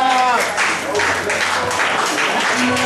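Concert crowd claps along, with rhythmic hand claps pulsing under loud music and voices, bright and close.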